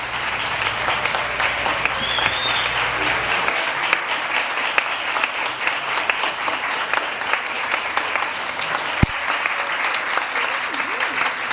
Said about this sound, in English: so you can receive a well-deserved round of applause